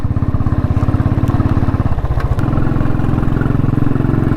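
A motorcycle engine on an adventure ride through Spiti, toward Dhankar on a partly off-road route, throbs close and loud with a steady pulsing beat, briefly shifting in pitch midway before settling back.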